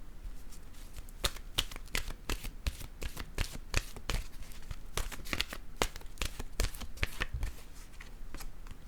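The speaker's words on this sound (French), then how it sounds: "Je vais piger une carte." Cards being shuffled for a tarot-style reading: a quick run of crisp riffling snaps and flutters, close and fairly soft, with no talking.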